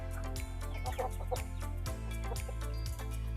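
Egg-laying hens cluck repeatedly in a rhythmic series of short calls, close and clear over a steady low hum.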